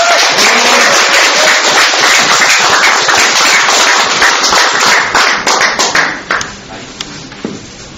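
Loud, dense applause from an audience welcoming a daegeum performer at a commemorative rally, a continuous roar of clapping that thins into scattered claps near the end.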